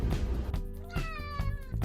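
A pet cat meows insistently at close range, giving a couple of clear, drawn-out cries in under two seconds over faint background noise.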